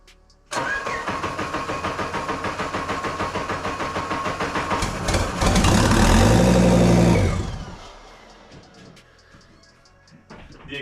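A five-cylinder engine swapped into a Mazda Miata, running with its exhaust disconnected, cranks in quick repeated pulses for several seconds. It fires up and roars loudly, then drops back to a quieter, uneven idle.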